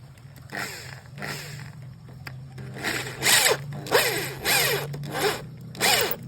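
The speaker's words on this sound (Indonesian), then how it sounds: "Usahakan lurus ya waktu pengeboran ataupun nanti waktu pengetapan." A power drill bores out a stripped bolt hole on a motorcycle in short, repeated bursts, each whirring pass rising and falling with brief pauses between, close and fairly loud.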